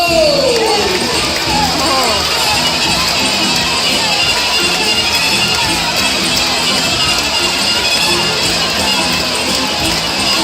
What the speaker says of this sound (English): you have to cheer even louder